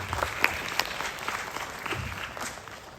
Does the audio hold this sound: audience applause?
yes